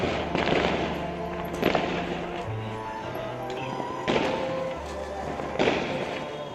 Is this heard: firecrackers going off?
yes